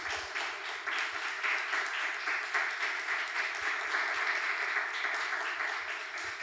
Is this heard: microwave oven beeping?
no